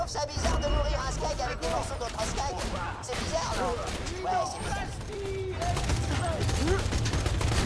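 Gunfire in the shooter game Borderlands 2, quick bursts of shots rattling under a constant game soundscape with people talking over it.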